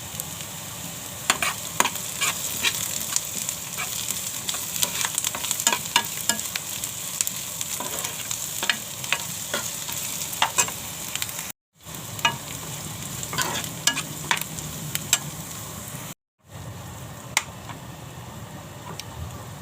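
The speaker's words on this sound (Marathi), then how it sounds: "कांदा भाजलाय चांगला" Onion with chopped green chillies and garlic frying in a pan for methi bhaji. Repeated scraping stir strokes sound over a steady close sizzle, with two brief cuts to silence and no speech.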